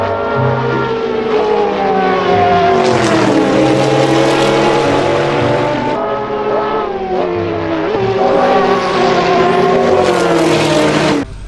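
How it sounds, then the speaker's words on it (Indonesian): Toy race car with a loud, continuous engine-like whine that rises and falls in pitch, sounding close and steady throughout with no talking over it. "Wow, ini mobil balap,"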